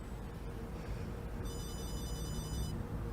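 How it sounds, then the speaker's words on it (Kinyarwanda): A telephone rings with a steady electronic trill lasting over a second, heard over a low background hum in a film scene. "Telefone irasona."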